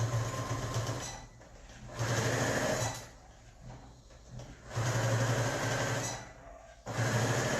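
Sewing machine stitching through felt book pages, running back and forth in bursts: steady mechanical whirring that stops and restarts several times, close and fairly loud with brief pauses between runs.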